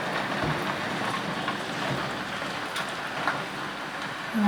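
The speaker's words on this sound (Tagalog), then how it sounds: "Lakas ng ulan." Heavy rain with small hail pours steadily in Canada, a dense, hissing wash with scattered small impacts, a constant roar with no voices.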